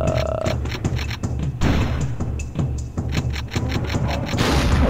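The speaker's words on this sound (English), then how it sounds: "Whoa, gunshots!" Rapid gunfire bursts from a Turok video game crack out in dense, repeated volleys over a low rumbling game backdrop, loud and close throughout.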